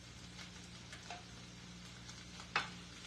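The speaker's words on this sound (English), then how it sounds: "I'm going to go ahead and throw some garlic in with this meat while it's still cooking" Garlic frying with meat in a home pan, a quiet, low-level sizzle with occasional soft scrapes and one sharper clink near the end, no voices present.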